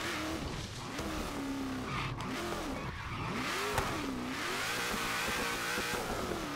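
In Forza Horizon 3, a car engine from the Hot Wheels expansion revs and drops continuously, its pitch swooping up and down under steady road noise with some tire squeal, loud and close throughout.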